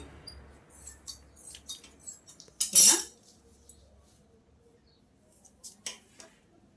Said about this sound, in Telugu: నేను కట్ చేసి కొంచెం అయితే పోగు ఎలా తీసుకోవాలో చూపిస్తాను చూడండి